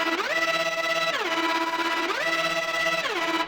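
Progressive house synth lead pushed through wave folders, overdrive and a flanger: a dense, gritty, buzzing tone sliding up and down between two pitches, loud and continuous with no voices.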